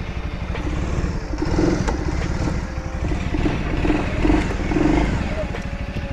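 Off-road vehicle engine running and revving as its front right wheel spins freely in the air, a steady rumbling motor with periodic rises and clatter, someone speaking French over it.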